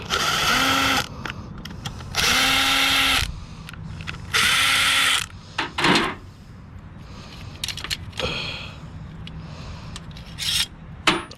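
A hand ratchet backs screws out of an AC compressor during a teardown, giving loud repeated clicking, grinding bursts of a second or so separated by pauses and shorter scrapes, close to the mic, with no talking.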